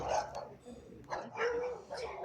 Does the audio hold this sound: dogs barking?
yes